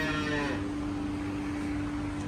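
Kankrej cows on a farm give a low, drawn-out moo near the start, fading into a steady hum of farmyard background with no talk.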